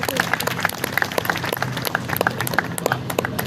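Audience at an organizational general meeting of a Koli federation clapping in a dense, continuous patter of many hands, fairly loud and close, with voices murmuring underneath.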